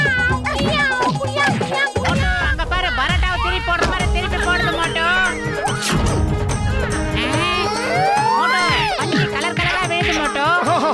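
A cartoon cat in Motu Patlu meows and caterwauls loudly and repeatedly, sliding wails layered over busy music and crash effects.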